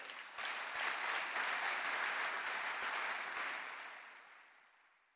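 A church congregation at a French-language service claps together, a loud dense burst of applause that holds steady for several seconds before fading away, with no voices over it.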